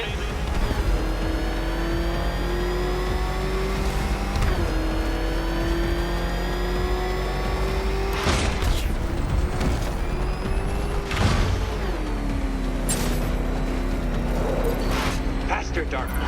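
The Batmobile's engine in Batman: Arkham Knight roars loud and close throughout, its tone climbing and then dropping in several shifts like gear changes, with bursts of crashing noise and voices mixed in.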